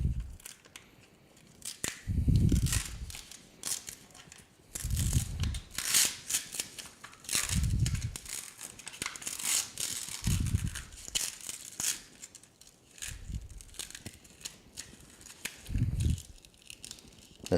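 Red craft vinyl for shirts being torn and peeled apart by hand, giving repeated crinkly ripping bursts roughly every two to three seconds, close and fairly loud, with no talking.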